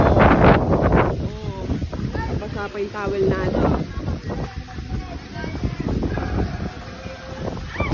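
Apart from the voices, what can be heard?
strong wind blowing outdoors by a stream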